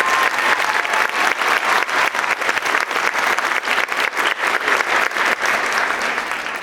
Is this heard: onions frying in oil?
no